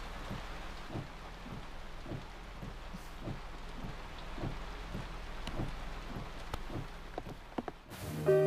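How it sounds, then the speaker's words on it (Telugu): Heavy rain falls steadily in a film scene, with a constant wash of drops and a low rumble of thunder beneath, and no voices. "వర్షం ఆగేలా లేదు."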